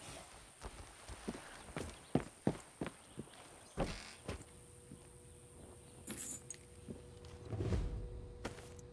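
A set of keys jangles as it is picked up in the video game Far Cry 6, a series of sharp metallic clinks and rattles amid footstep-like thuds, fairly quiet and without talk.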